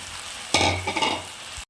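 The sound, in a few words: crispy fried chicken stirred into sizzling sauce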